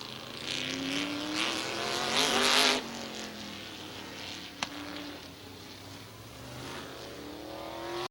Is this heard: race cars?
yes